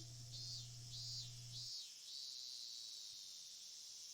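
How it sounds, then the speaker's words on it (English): Cicadas in a summer scene from the Higurashi visual novel drone in pulsing, high-pitched waves, fairly faint, first as three swells and then as a steady sustained buzz, with a low hum underneath that stops partway. "The sound of cicadas soaks into his body."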